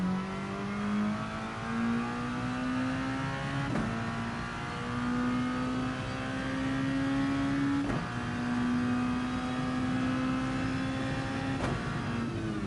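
A race car at full throttle on the Monza circuit holds a loud, sustained engine howl that climbs steadily through the gears, with three brief shift breaks spaced roughly four seconds apart, and no talk.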